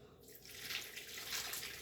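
Water pouring into a container for a salmon brine of sugar and salt, a soft, steady hissing splash, quiet and close, with no talking.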